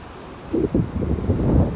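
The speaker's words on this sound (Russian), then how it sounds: "Смотрите, как классно оно разбивается об буны." Black Sea waves stirred by a light breeze break against the groynes of a narrow beach in Sochi, a low rushing wash that swells up after a quiet start and keeps surging under steady wind noise.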